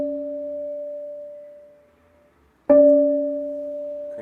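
A prepared piano note muted with a rubber strip from a canning jar, a plain, dull tone that decays and fades, followed after a short gap by a second, brighter struck note that rings on.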